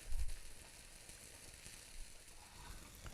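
Egg whites frying in a pan over medium heat for a breakfast frittata, giving a steady, moderately faint sizzle with a soft bump near the start.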